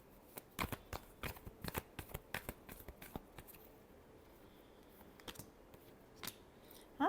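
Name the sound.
shuffling tarot cards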